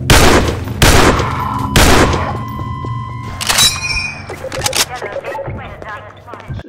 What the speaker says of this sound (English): I'm just shooting people just for the fun of it.